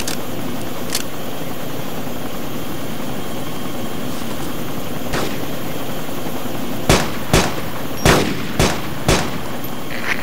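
Helicopter in the military video game ArmA 2, a steady whirring rotor drone throughout, joined near the end by a quick series of sharp gunshot cracks in uneven rhythm.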